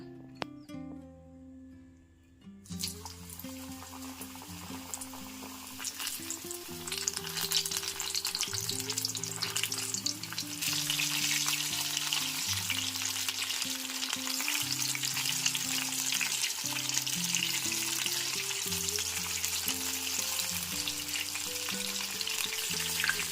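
Paneer masala rolls fry in oil over a low flame, a dense, even sizzle that starts after a quiet moment, swells and holds steady as more rolls are added, with low background music throughout.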